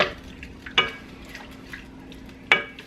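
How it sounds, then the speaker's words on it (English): Shrimp stirred around in tomato sauce in a pan: a quiet simmering bed with a few sharp spoon clicks against the pan and soft wet scraping strokes, close and without talk. "Now I'm just going to stir that around."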